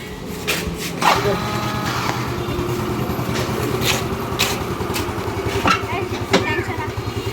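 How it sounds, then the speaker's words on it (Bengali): A motorcycle carries riders to a vegetable market in Konabari, its engine humming steadily with a low, even drone throughout, while voices talk faintly in the background. "কোনাবাড়ি বাড়ি যাইতেছে বাইক দিয়ে"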